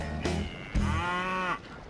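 A cow on the OSU campus lets out a couple of loud, close, drawn-out moos, the second longer and falling in pitch.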